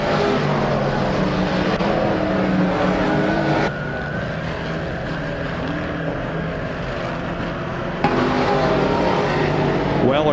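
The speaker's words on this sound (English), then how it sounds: "Here's the white flag for Zach Weller down the front." Race cars running down the front straight on the final lap of a short oval race: a steady engine drone with shifting pitch, cars passing at mid-distance, over continuous commentary.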